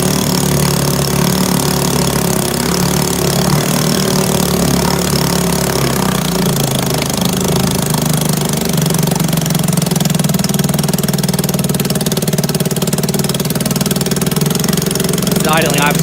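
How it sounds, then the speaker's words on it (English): A 1962 Sea King 3 outboard motor idles steadily and loudly up close, a continuous chugging engine drone throughout, with talking over it. "It's idling obviously perfectly"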